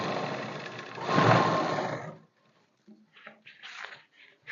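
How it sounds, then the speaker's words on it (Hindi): A sewing machine runs a simple straight stitch along the edge of plain fabric for a skirt suit, a steady close whir for about two seconds that stops abruptly, followed by faint handling noises. "और किनारे पे हमने सिलाई लगानी है सिंपल।"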